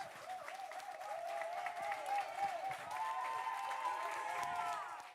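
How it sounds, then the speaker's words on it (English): Applause rises from an audience at the close of an evening gathering, a soft, continuous clapping wash, with a tonal melody and some voices layered over it before it trails off at the end. "Please give everybody another round of applause."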